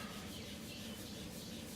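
A sanding pad with 400 to 600 grit rubs steadily across a painted surface in a quiet, continuous close-up scratching rhythm, with no talk.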